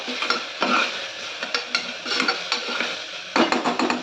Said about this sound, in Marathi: अद्रक लसूणची पेस्ट घातली त्याच्यामध्ये. ते पण ह्याच्यामध्ये भाजून घ्यायचं चांगलं.